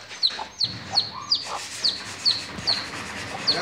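A young chick peeps in a rapid series of sharp, high chirps, about eight evenly spaced calls, close and clear with no talking.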